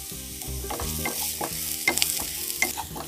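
Onion, garlic, chili powder and curry leaves frying in a pan for a tender jackfruit stir fry, a steady close sizzle with a spoon scraping and stirring through it.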